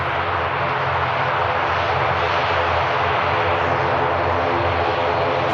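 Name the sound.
ATR 500 aircraft at Manchester Airport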